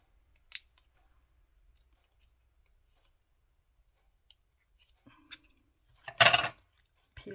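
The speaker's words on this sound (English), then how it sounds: "Just need to trim this off a little bit." Scissors trim card paper for a handmade greeting card: a few quiet, isolated snips spaced apart, the last a slightly longer cut, in an otherwise still room.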